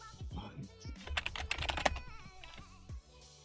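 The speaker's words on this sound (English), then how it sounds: "you're typing so fast on the screen" Fast keyboard typing clatters in a dense burst of quick keystrokes, fairly faint and close, with a voice talking at the start and end.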